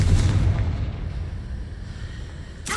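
Confringo explosion spell from the video game Hogwarts Legacy, a deep booming blast at the start that rumbles and decays over a couple of seconds, followed by a short sharp crackle at the end.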